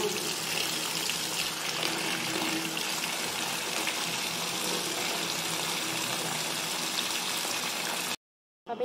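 Running water pours steadily over banana leaves as they are rinsed by hand, a continuous close gushing like a tap, ending abruptly in near silence.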